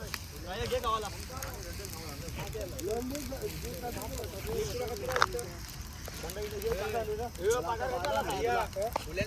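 Wood fire freshly lit outdoors on a cold night for popti, clay-pot cooking, crackling and rustling steadily under close conversation and wind noise.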